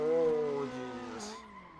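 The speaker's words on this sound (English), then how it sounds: "my handbrake is loud" Tires on a 300 hp Nissan S13 in the Assetto Corsa racing game give a short, loud handbrake skid squeal with a tonal screech that fades over under two seconds, with engine drone underneath.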